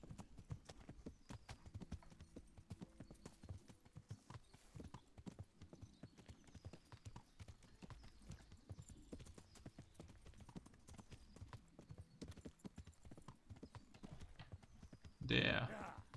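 A horse's hooves beat a steady galloping clip-clop rhythm throughout in Kingdom Come: Deliverance, quiet and even, with a short louder burst near the end and someone talking over part of it.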